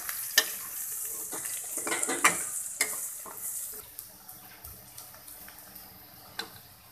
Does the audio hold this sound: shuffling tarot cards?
no